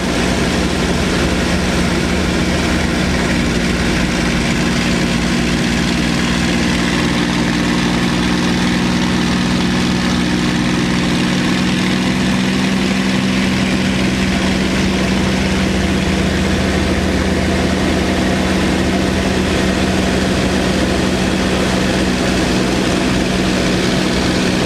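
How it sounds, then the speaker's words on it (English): A P-51 Mustang propeller fighter in flight, its piston engine roaring loud and steady from the cockpit through a long loop, with a deep constant drone and no voices. "My first loop in a P-51."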